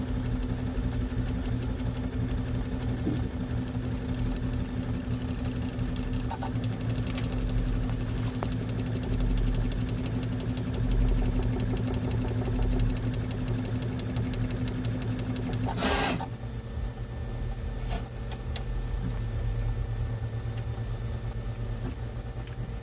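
A 3D printer runs a failing print, making a steady mechanical hum with whining stepper-motor tones that holds at the same level throughout, plus a short sharp burst near the end. There is no talk.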